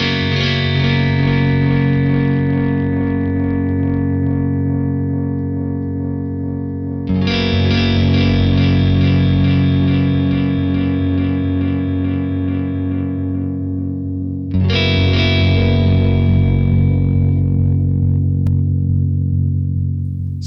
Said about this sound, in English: So cranked up, that tone control really just goes instantly to a dark and murky sound.